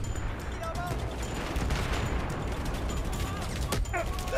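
An automatic Glock pistol from the video game Battlefield 4 fires in rapid bursts of crackling shots, with other battlefield gunfire and booms around it and someone talking excitedly over the top.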